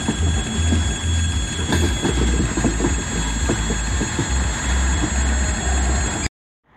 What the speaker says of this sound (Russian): скоростной поезд ночной на переезде